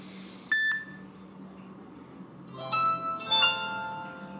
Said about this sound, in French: Et ensuite on a la sonnerie pour les notifications.